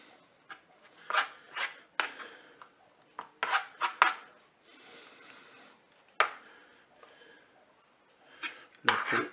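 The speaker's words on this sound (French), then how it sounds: "Je vais prélever la chair des aubergines avec une petite cuillère." A small spoon scraping and scooping the flesh out of rinsed aubergines, quiet soft scrapes and clinks of metal on skin and dish, coming in irregular bursts with short pauses.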